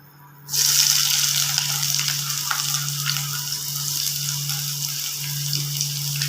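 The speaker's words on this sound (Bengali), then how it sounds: "কড়াইয়ে তেল গরম হয়ে গেছে, প্রথমেই দিয়ে দেবো পেঁয়াজ কুচিগুলো" A sudden loud sizzle erupts as chopped onions hit hot oil in a kadai, then settles into a steady, close crackling fry with a low hum underneath.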